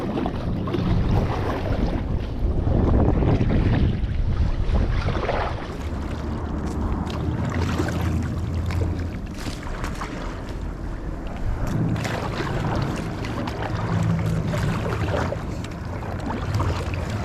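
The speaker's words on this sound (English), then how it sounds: "It's a really windy day" Strong, steady winter wind roars across open water around a light inflatable kayak, a dense rushing noise that holds throughout with gusting swells and low rumbling, no voices.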